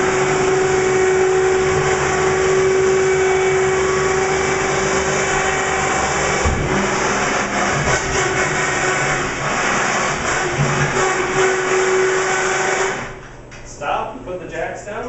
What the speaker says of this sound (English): Unfolding the trailer is as simple as pushing a button.